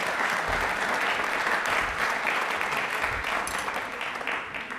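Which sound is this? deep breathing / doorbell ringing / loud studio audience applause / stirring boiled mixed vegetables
loud studio audience applause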